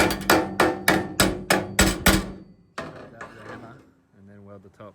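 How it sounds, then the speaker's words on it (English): Eight quick, evenly spaced hammer taps on the metal of an aluminium tinny boat between welds ring out close and loud, then fade into someone talking. "Just welding a bit, tapping it in, welding a bit, tapping it in."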